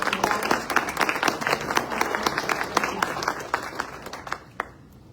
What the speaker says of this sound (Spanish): un aplauso a estas personas a las que acabo de agradecer